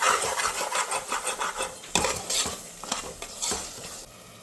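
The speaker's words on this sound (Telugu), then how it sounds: "ఇలా కలుపుకొని కొంచెం 1 నిమిషం ఫ్రై చేసుకోవాలి." Mutton biryani masala being stirred and fried in a pan, with a steady sizzle under repeated scraping and mixing strokes of a spoon against the metal, close and continuous with no talk.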